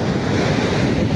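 Ocean waves rolling onto a beach, a steady loud wash of surf mixed with strong wind buffeting the microphone, with no voices.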